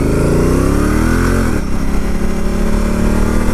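A Honda Africa Twin motorcycle with a DCT gearbox accelerating hard on a wet road, its engine note climbing loud and close through the revs before an automatic shift drops the pitch and the pull resumes.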